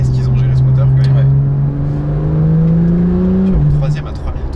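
A Porsche 911 991.2 GTS with a turbocharged flat-six drones steadily from inside the car while driving, its engine tone rising slowly then dropping at a shift, with a person talking over it.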